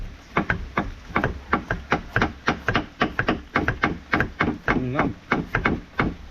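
A sharp knife chops banana blossom in a steady, even rhythm of about twenty close, crisp strikes, and a voice speaks once, briefly.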